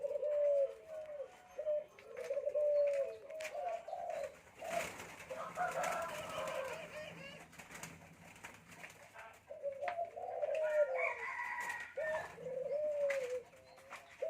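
A spotted dove coos in repeated phrases, fairly close and clear, with a pause midway before the calls resume, other birds chirping faintly in the background.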